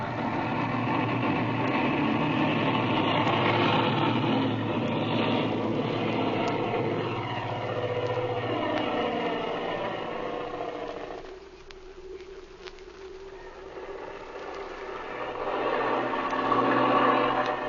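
Airplane engine taking off at high elevation, a 1930s radio drama sound effect: a steady droning propeller roar holds for several seconds, dips briefly, then swells back up, with no talk over it.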